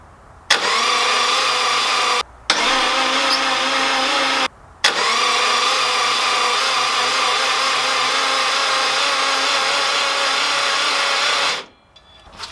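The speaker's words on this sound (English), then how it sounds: "we're gonna crank it over and see if we can build some oil pressure" A Subaru engine in a Honda CRX, with zero compression, is cranked over by its starter in three bursts, two short ones and then a long steady whirring crank that winds down.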